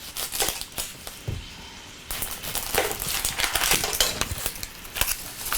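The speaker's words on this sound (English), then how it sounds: "We'll start with our onion. This is big. So we're going to cut the ends off." A knife slices the ends off a large onion with a quick run of crisp, close chopping clicks, irregular in rhythm and fairly loud, with no voices.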